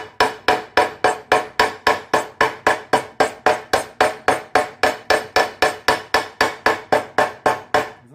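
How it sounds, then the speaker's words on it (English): A small hammer strikes a vintage car's metal rim under repair in a fast, steady rhythm, dozens of sharp ringing blows in a row, close and clear. "We'll give that a whack. Down with a little hammer."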